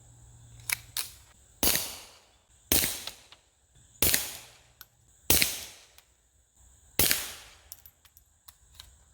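A Ruger Mark IV 22/45 pistol fires Blazer 40 grain round nose .22 rounds in six sharp, close reports spaced about a second apart, each trailing a short ring, with quiet pauses between shots.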